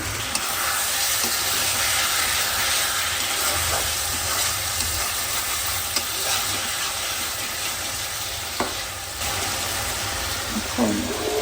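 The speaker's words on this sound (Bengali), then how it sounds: "ইলিশ মাছ ভাজছি যে পানিতে না" A steady, close sizzle of hilsa fish frying in a pan with hot oil, continuous throughout, with occasional small pops and clicks.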